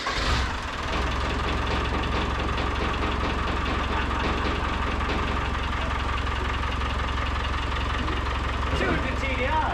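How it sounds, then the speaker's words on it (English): A Land Rover Discovery 200Tdi diesel engine cranks and catches, then settles into a steady, loud, knocking idle, with people talking over it. "200 TDI. I knew it was going to start."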